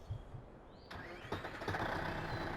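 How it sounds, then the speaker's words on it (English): A tractor engine in Farming Simulator 2015 cranks and catches, a soft click followed by the motor starting and settling into a low rumbling idle, faint and even. "So we've got to start the engine."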